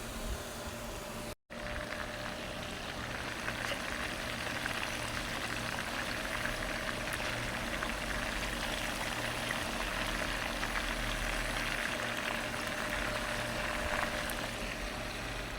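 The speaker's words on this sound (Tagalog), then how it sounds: "Ayan, prito tayo ng isda." Continuous crackling sizzle of fish frying in oil, steady and close throughout with no talking.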